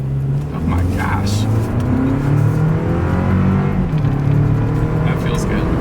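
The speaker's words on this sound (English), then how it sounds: "let's see how quickly we can get our new 2026 Toyota Land Cruiser here up to speed" A 2026 Toyota Land Cruiser in sport driving mode accelerates hard, its engine note rising steadily and loud from inside the cabin, with a person speaking over the drone.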